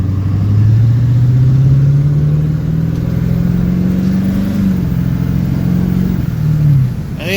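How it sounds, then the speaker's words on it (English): A Duramax diesel pickup truck pulls away and cruises after a fuel filter change, its engine drone rising steadily in pitch through the gears as a loud, continuous interior rumble with no talk over it. "that's just barely pushing the gas and we're cruising"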